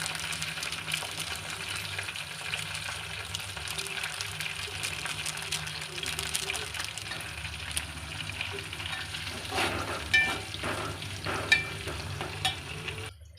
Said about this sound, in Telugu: ఆనియన్స్ ఈ విధంగా ఫ్రై అయిన తర్వాత